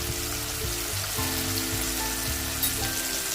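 Softened tomatoes sizzle in a pan as asafoetida goes in for a Malvani black pea sambar, a dense, even hiss that holds steady throughout, with a low hum underneath.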